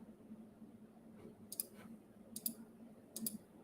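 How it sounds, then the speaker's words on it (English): Keys on a computer keyboard click quietly during a frontend coding session, arriving as three short bursts of clustered taps over a low steady hum. "keyboard might get a little aggravating sounding"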